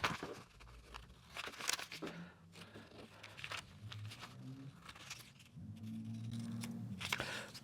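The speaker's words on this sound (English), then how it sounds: "we've got a dotted line, simply cut on that dotted line" Scissors snip through a paper I.C.E. card along a dotted line in a series of quiet, close cuts and rustles, with paper handling in between.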